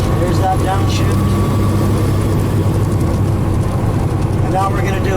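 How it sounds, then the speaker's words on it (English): Heavy truck engine droning loud and steady through a downshift on a 13-speed transmission, throttle eased off then gently reapplied, with the low rumble continuous throughout. "Foot off the throttle, downshift, throttle gently. There's that downshift."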